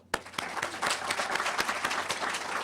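A small conference audience at a Plone community talk gives a short round of applause for a contributor, a soft, dense patter of claps with a few sharper close claps, somewhat distant and steady throughout.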